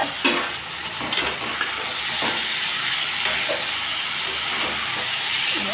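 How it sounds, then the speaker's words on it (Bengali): Food frying in a pan, producing a continuous loud hiss and sizzle, with a few sharp utensil knocks near the start and otherwise steady texture. "ভাজা ভাজা হয়ে এসেছে।"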